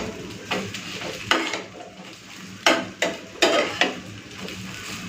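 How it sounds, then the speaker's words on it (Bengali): An egg omelette frying in a pan, a soft sizzle under a series of sharp scraping and tapping strokes from a utensil against the pan, irregular and close. "তো হয়ে গেছে ডিম ভাজা"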